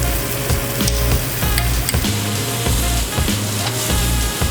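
Frozen blueberries, brown sugar and honey sizzle and bubble in a hot pan, a busy close-up crackle with rhythmic stirring scrapes through it and no talking.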